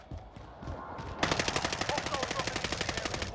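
Rapid automatic gunfire in the Warzone video game on Rebirth Island starts abruptly after a second of game noise and rattles on as a steady, close, loud burst of evenly spaced shots.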